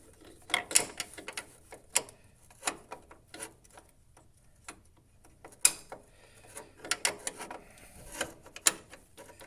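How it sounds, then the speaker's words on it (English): A ratchet clicks in short, irregular bursts while turning a bolt on a Mopar big block oil pump. The crisp metallic ticks come close and fairly quiet, with pauses between strokes and no talking. "then you get your ratchet on the bolt"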